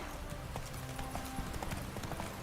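Horse hooves clip-clop in The Witcher 3, a quick, irregular run of close, crisp hoof strikes over a steady background bed.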